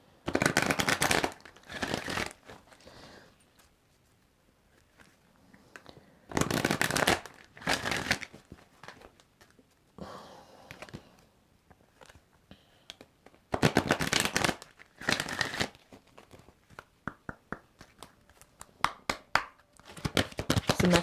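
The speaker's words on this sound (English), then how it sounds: "Let me pull some love cards and see what comes up." Tarot cards are shuffled by hand in quiet bursts, each a crisp riffling flutter lasting a second or two, separated by softer taps and handling sounds, close and fairly faint, with no talking.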